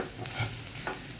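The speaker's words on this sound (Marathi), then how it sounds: "लाल तिखट सगळं, मीठ सगळं टाकून हा कांद्यामध्ये परतूया" Onions sautéing with red chilli powder, Byadgi chilli, garam masala and salt, heard as a brief close sizzle with a few quick stirring scrapes.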